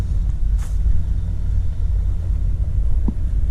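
A 1995 Ford F-150 pickup's engine idles through a single exhaust with a deep, steady rumble close by, continuous and fairly loud, with a faint click or tap near the end.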